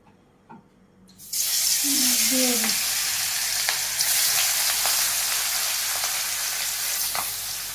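Eggplant slices fry in hot oil in a wok in a Bangladeshi village kitchen: after a quiet start a strong, continuous sizzle erupts and crackles on steadily, with a few brief clicks and scrapes near the pan.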